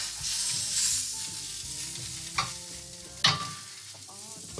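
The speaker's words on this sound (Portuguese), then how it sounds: "Eso voy a refogar." A mushroom, butter, garlic and onion mixture sautéing in a wok, with a bright close sizzle and scraping stirs punctuated by two sharp utensil knocks, no speech.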